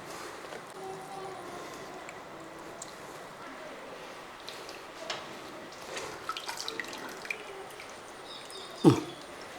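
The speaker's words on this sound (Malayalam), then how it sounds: "ഇങ്ങനെ പിഴിഞ്ഞ് നമുക്ക് ഈ വെള്ളം കളയണം" Soaked soya chunks are squeezed by hand in the kitchen, giving faint, quiet drips and trickles of water with a brief louder splash near the end.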